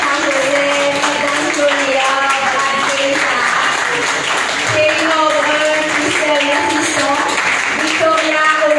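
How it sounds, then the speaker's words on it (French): An audience claps continuously for honored young people at a tribute ceremony, a dense steady patter mixed with music and crowd voices. "On les applaudit très rapidement."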